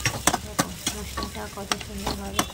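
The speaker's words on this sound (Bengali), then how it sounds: "মশলাটা কত সুন্দরভাবে কষানো হয়ে গেছে।" Spice masala stir-fried in a pan sizzles steadily while a spatula scrapes and knocks against the pan in an uneven rhythm, close and clear.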